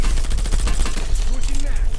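Automatic gunfire in Call of Duty Black Ops 7 Zombies, a dense, loud stream of rapid shots that runs through the whole stretch with game sound effects mixed in.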